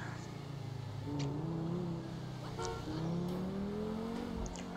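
A Honda Civic's engine drones in GTA 5 as the car drives, its pitch rising and falling with throttle changes, steady and fairly quiet with a few brief sharp ticks over the hum.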